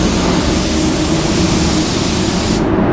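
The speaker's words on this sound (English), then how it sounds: "Whenever you're spraying these mid coats" A spray gun lays down a candy paint mid coat with a loud, steady hiss of air and paint. The hiss is close and continuous and cuts off right at the end.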